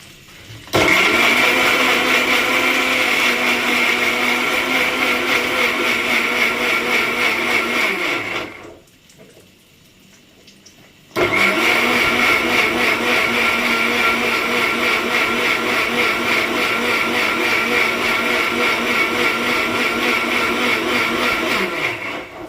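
A kitchen blender grinds ginger, green chili, tomato, melon seeds and roasted peanuts into a spice paste, running loud and steady for about eight seconds, cutting out for a short pause, then whirring again just as strongly to the end.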